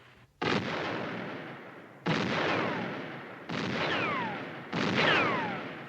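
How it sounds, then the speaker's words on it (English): Four loud, sharp gunshots ring out at an outdoor firing range in a comedy TV series, each one a heavy crack with a long, booming echo that fades before the next, spaced about a second and a half apart. "stop by the firing range and we can all stand around together and shoot our guns"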